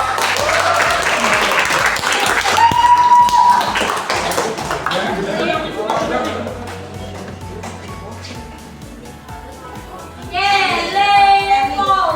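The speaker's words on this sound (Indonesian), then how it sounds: "Tepuk tangan dulu ya untuk Bapak Satrio." Children clap for a firefighter during a fire station field trip, a lively round of applause with kids' voices and adult speech mixed in, swelling again near the end.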